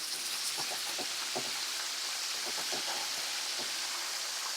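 Frog legs deep frying in hot oil, a steady bright sizzle with scattered crackles and pops running continuously at close range, no voices.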